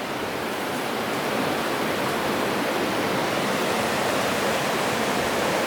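The Cautín River rushes steadily through a rural community setting, a dense, unbroken wash of flowing water that stays loud and even from start to finish.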